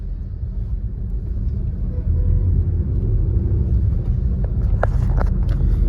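Steady, loud highway traffic rumble fills the stretch, with buses stopping mid-highway in heavy crowded traffic and a few brief sharper tones near the end.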